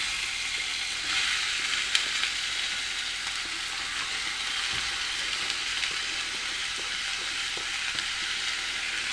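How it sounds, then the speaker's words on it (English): Onion sizzles in warm oil, a continuous, even frying hiss with occasional small crackles and no voices. "Add the onion into the oil that's been warming up."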